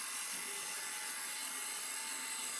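A drill bores into wood with a steady high-pitched whine that holds constant and close without pause or break, and no voices are heard.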